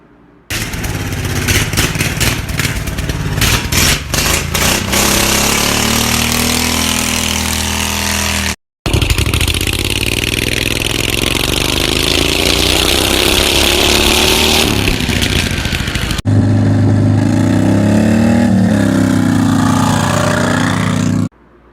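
A refurbished racing lawnmower built to reach 40 mph drives and revs hard, its small engine buzzing loudly and continuously across several segments, with rising and falling pitch as the throttle opens and closes.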